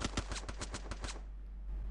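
Rapid burst of about eight evenly spaced gunshots in the game Free Fire, sharp and close, stopping abruptly after a second and leaving quiet background.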